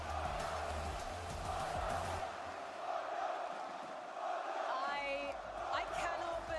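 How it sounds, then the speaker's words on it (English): A large arena crowd at the Fortnite FNCS Globals roars and cheers steadily, with whoops and shouts rising out of a sustained wall of noise heard from a distance. "The crowd loves them, bro."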